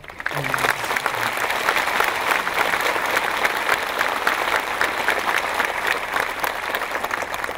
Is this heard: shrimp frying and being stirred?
no